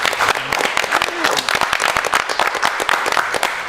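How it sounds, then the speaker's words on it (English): An audience claps for a special guest, a dense patter of applause with crowd voices and talk mixed in throughout. "Let's clap for him."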